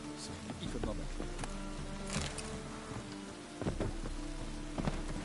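Steady rain in the video game The Witcher 3 patters over a surface with scattered heavier drops, a dense continuous hiss with a faint low rumble beneath.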